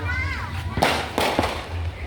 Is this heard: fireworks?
yes